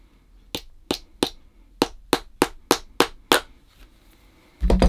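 A hammer head on lasting pliers strikes a leather shoe upper stretched over a last, making about nine sharp, close taps in a fairly even rhythm, followed by a louder burst of handling noise at the end.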